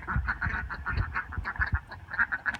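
Ducks quack repeatedly in a rapid, uneven chorus outdoors on a cold, cloudy, rainy day, the nasal calls close and overlapping with soft low thumps beneath them.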